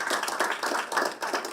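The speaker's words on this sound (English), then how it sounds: "please give a round of applause for Rico there" Audience clapping at a manufacturing panel during a cross-border summit in Shenzhen, a steady patter of many hands applauding, moderately loud and continuous, with no voices over it.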